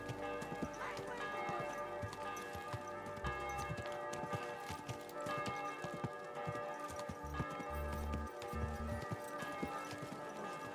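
Steady clip-clop of horse hooves trotting along in the video game Kingdom Come: Deliverance II, with a bell-like tone and a droning backdrop running throughout; no talking.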